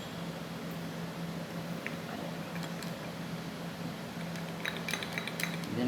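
A concentrated nitric acid mixture is stirred in laboratory glassware, with light, sparse glassy clinks and ticks over a low steady room hum that grow a little busier toward the end.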